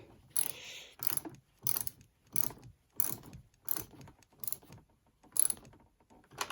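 A 1/4 inch drive ratchet tightening a car battery terminal: about nine distinct bursts of quick clicking, evenly spaced and close, quiet in between, with no talking.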